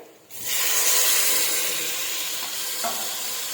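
Onions and tomatoes sauté in a pan for Chettinad chicken biryani, a loud, steady broadband sizzle that starts abruptly after a brief quiet moment and holds without pause, with faint stirring scrapes near the end.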